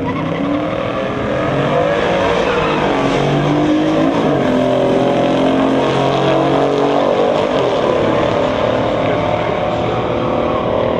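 1969 Chevelle SS muscle car launching down a drag strip lane in a factory stock race, a loud continuous engine roar climbing in pitch as it pulls away, with faint commentary beneath.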